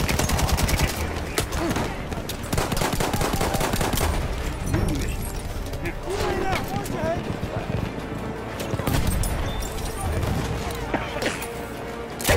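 Rapid machine gun bursts and scattered gunfire crackle loudly and almost without pause through a video game firefight, close and dense, with voices talking over the shooting.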